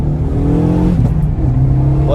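A 2015 Renault Megane 3 RS phase 3 with a stage 1 tune accelerating, close and loud: a strong, rising engine drone with clear harmonics that shifts pitch as it pulls. Distinct exhaust pops are hard to pick out.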